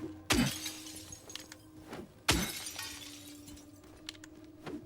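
Two sharp glass-breaking crashes in Silent Hill 2 Remake, each a loud shatter followed by tinkling fragments that fade, about two seconds apart, with faint small clinks afterward.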